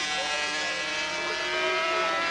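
Superbike engine at Donington Park in 1981, revving hard and changing down through the gears approaching Coppers, a continuous loud high-pitched engine whine with a commentator talking over it.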